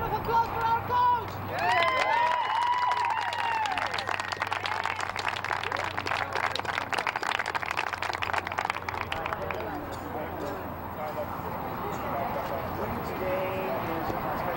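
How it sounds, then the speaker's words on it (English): A crowd applauds and cheers for a boys' U16 soccer coach after a state cup final, loud shouts and whoops over steady clapping that fades to scattered claps and chatter. "Somebody round of applause for our coach!"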